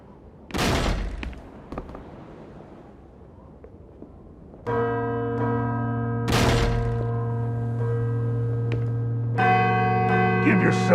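A church bell rings out in the Call of Cthulhu: Dark Corners of the Earth video game, set in Innsmouth, with sustained tolling strikes layered over thuds and background game ambience.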